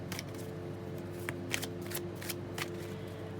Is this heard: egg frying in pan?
no